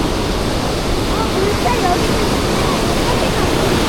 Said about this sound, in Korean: 바로 근처에 있는 호카 폭포에 왔어요. 우와 여기는 물살이 장난 아니다.